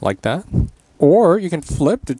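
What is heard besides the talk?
No distinct noise like a dog, phone or traffic.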